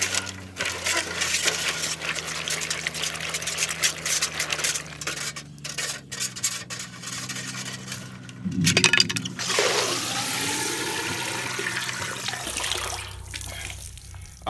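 Raw peanuts being rinsed in a pot of water, with steady sloshing and swirling close up, a brief splashy burst midway, then a quieter stir; no talking.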